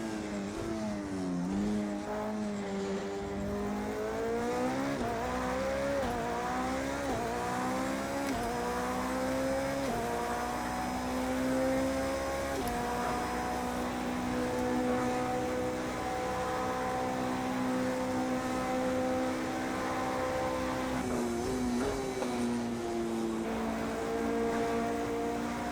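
Porsche 917 LH race car engine in Project Cars 2, a steady high-pitched roar rising and falling through gear changes as the car laps a vintage circuit, loud and continuous with no voices.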